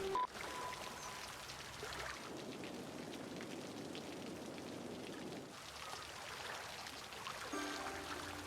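Water pours from a sinkhole in the city-building game Cities: Skylines, a steady, soft rush of splashing, rain-like flow that continues throughout with no talking.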